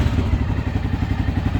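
A tall motorcycle's engine runs close by with a loud, low, pulsing throb that stays steady and even over a couple of seconds.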